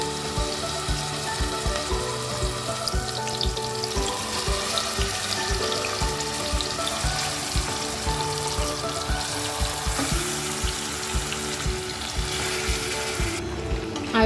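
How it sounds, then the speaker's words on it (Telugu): Marinated mutton frying in hot oil for a restaurant-style mutton curry, a steady broadband sizzle with watery crackle and repeated scraping and stirring knocks, close and continuous throughout. "ఆయిల్ వేడెక్కిన తర్వాత మనం ముందుగా మ్యారినేట్ చేసి పెట్టుకున్న మటన్ని ఇందులో వేసుకోవాలి."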